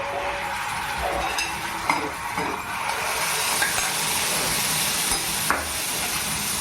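Ambadi (sorrel) leaves tipped into a hot pan with oil and turmeric and stirred, a bright steady sizzle with occasional scraping clinks of the spoon.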